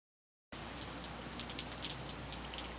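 Steady, even rain from a Benjamin Blümchen weather PC game starts abruptly after a half-second of silence, then pours on at constant loudness with scattered brighter drop patters and no voices.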